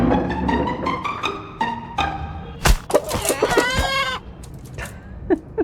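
Roosters and chickens in Northern Ghana cluck and crow close by, a run of repeated clucks building into a loud crow, with scattered softer clucking afterward.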